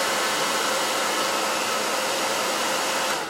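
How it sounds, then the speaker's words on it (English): A hair dryer blows steadily to warm a mascara wand, a loud, close, continuous rushing roar that tapers slightly at the end. "I got my blow dryer."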